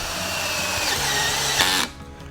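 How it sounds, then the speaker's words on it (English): A power driver whirs steadily for nearly two seconds, then stops, driving number 2 square-head, side-entry flathead screws to fasten a Westbury Riviera railing bottom rail to its brackets. "We're now ready to attach the bottom rail to our bracketry using the provided flathead screws"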